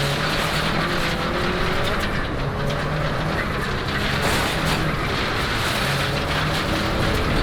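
A rally car on a dusty gravel stage roars and rumbles steadily, with crunching and rattling from the loose surface as it brakes hard into a tight corner, loud and close from inside the car.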